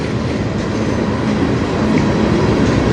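A slow freight train, number 485, rolls past on the Strathroy Subdivision near Sarnia with a loud, continuous rumble and faint rhythmic clatter of wheels, close by and without any voices.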